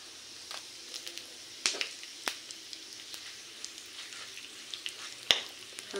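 Whole cumin and panch phoron fry in hot oil for a paneer samosa filling, a quiet, steady sizzle broken by sharp scattered pops and crackles.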